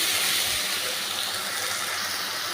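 Ginger, garlic and green chili paste sizzles in a hot pan over a high gas flame, a steady close hiss with no talk.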